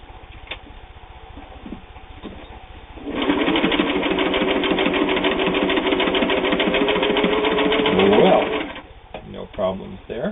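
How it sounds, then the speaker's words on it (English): Sewing machine, a Touch & Sew or Singer 401, driving hard through eight layers of heavy denim: a loud, steady rhythmic stitching run of about six seconds that strains and rises before stopping, with quieter machine ticking and handling noise before and after. "What if we double that and try 8 layers of heavy denim?"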